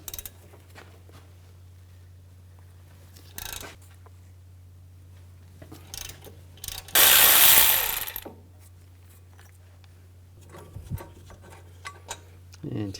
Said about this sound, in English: Take these two caliper bracket bolts out,